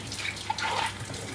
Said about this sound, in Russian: Воды выльешь больше, чем надо.